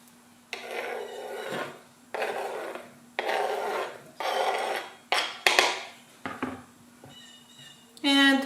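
A knife chopping an onion into small pieces on a board, heard as a series of close, crisp bursts of cutting strokes separated by short pauses, ending with a brief louder clatter.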